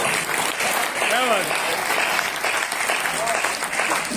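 Audience at a kavi sammelan poetry gathering applauding after a poem recital, a sustained crowd clapping with a few whoops and cheers rising over it.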